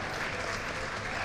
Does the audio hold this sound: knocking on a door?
no